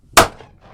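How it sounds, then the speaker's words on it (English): A replica cannon fires once in a single sharp, loud boom that decays quickly into a fading rumble, with no other sound around it. "The replica is equipped with all the bells and whistles. In fact, it even has a cannon."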